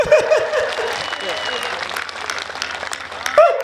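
Audience applause at a Hindi comic poetry recital in Meerut, steady broadband clapping filling the hall with a voice briefly over it at the start and end.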